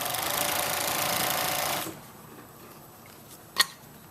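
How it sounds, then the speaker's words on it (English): A sewing machine stitches stretchy legging fabric in a fast, close, steady whir for about two seconds, then stops, leaving near quiet and one sharp click. "And then I'm going to stitch and stretch to the next quarter."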